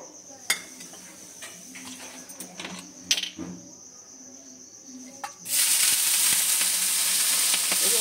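Water sprinkled onto a hot, oiled nonstick tawa bursts into a loud, steady sizzle that rises suddenly after a few quiet clinks and stays dense and hissing to the end.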